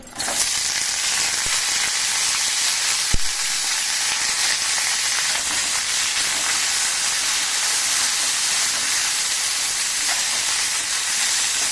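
Green chillies sizzling steadily in hot oil in a pan for a Telugu roti chutney, a continuous loud frying hiss with a sharp crackle near the start and no talking.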